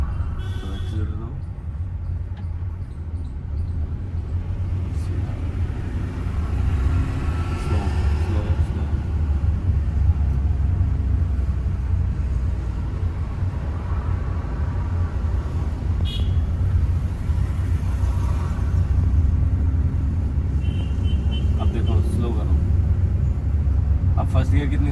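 A car engine hums and rises in a low, continuous drone during a driving lesson, with road noise underneath and an instructor talking over it.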